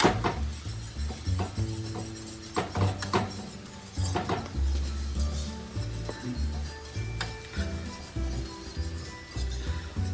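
Milk being stirred into a thick tuna casserole sauce in a pot, with repeated scraping and clinking of a utensil against the pan and a faint sizzle underneath, close and steady.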